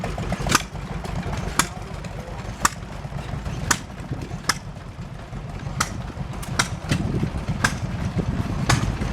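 An old Maytag engine, not a two-cylinder model, runs at a steam show, giving a steady low chugging drone with sharp periodic pops roughly once a second over busy outdoor background noise.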